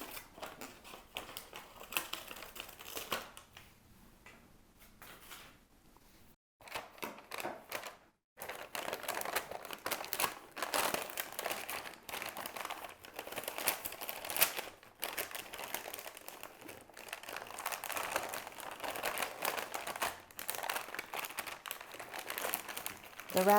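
Scissors cutting ragged Christmas wrapping paper, heard as crisp snipping and rustling crinkles that come in uneven bursts with a couple of short pauses. The sound is close and quiet.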